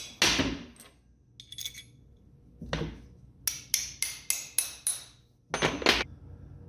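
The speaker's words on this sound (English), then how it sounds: "I tap them in with the hammer." A hammer taps parts into a Ford 302 short block: a few scattered metallic knocks, then a quick even run of about six sharp taps and two last louder strikes, close and clear against a quiet room.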